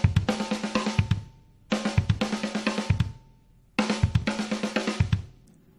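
A drum kit plays a repeating pattern split between snare and kick drums, three bursts of rapid strokes with low thumps mixed in and short gaps between them, close and clear with no talk.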